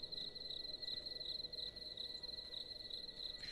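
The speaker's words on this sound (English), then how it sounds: "They put crickets on here" Crickets chirp in the theHunter Classic hunting game during its Halloween event, a steady high pulsing trill repeating every half second or so, moderately close and unbroken, with no speech.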